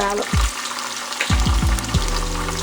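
Minced garlic sizzles steadily in a pan for green beans, with a few low knocks and scrapes of stirring over the frying hiss.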